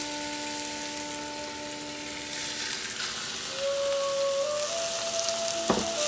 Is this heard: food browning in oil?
yes